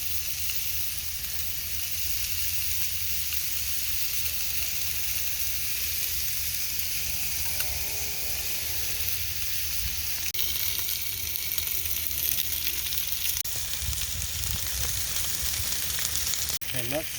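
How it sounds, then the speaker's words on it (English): Teriyaki-basted chicken and pork sizzle steadily on a grill for a Hawaiian luau-style meal, a constant broad hiss and crackle with faint clatter near the end. "We'll just get them on the grill right now."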